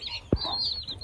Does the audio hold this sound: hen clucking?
yes